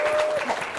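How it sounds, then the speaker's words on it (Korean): A short burst of dense applause from a church congregation at an anniversary thanksgiving service, a brief wash of many hands clapping at once. "자, 박수."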